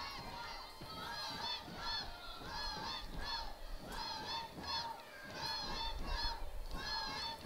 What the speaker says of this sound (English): And you can hear the X crowd going wild here.